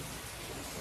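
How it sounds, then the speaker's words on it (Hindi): Heavy rain pours down as a dense, steady hiss of drops that fills the short moment evenly, heard alone at a moderate distance with no voices. "आज बहुत ज़्यादा बारिश है"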